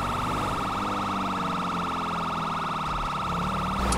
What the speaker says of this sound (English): Follow my sirens